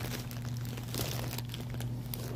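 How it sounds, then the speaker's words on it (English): Plastic bag from a mail package being handled and crinkled, a close, continuous crackling rustle with sharper crunches here and there, no talking. "She put it in a plastic bag."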